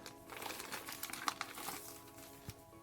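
Crinkly, rustling plastic parcel packaging being unwrapped up close, with scattered crackles and a few sharper snaps throughout.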